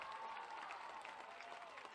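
A baseball crowd at a 2018 NCAA regional game between Army and NC State applauds a double with steady, moderately distant clapping that carries on for the full moment.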